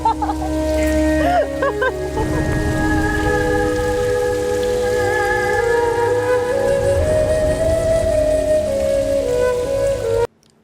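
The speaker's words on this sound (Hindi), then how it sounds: "या अल्लाह, आज ये बारिश ना थमे और तेज तेज बारिश हो।" Heavy rain falls steadily as a broad, loud hiss that runs unbroken for about ten seconds before cutting off abruptly, layered under sustained tonal music.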